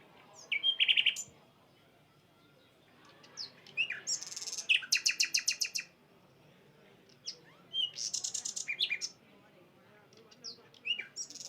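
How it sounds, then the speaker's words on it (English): Birdsong in a quiet side alley: bursts of bright chirps and trills in several clusters with pauses between, close and clear over a soft, low background hum. "She steps to the side alley where the drums fade into bird song."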